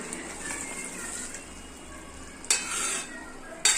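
Cow's milk poured over fried vegetables simmering in a pot, followed by steady stirring and bubbling sizzle, close, with two sharp scraping strokes near the end and no talk.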